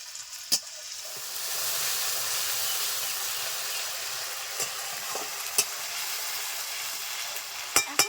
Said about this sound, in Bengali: আদা রসুনের কাঁচা গন্ধ চলে গেছে দিয়ে দিচ্ছি টমেটো বাটা এখন